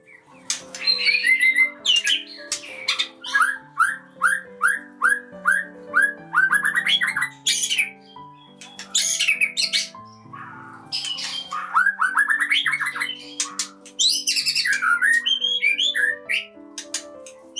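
A white-rumped shama sings alone, close and loud, with a long varied stream of clear whistles and flute-like phrases separated by brief pauses.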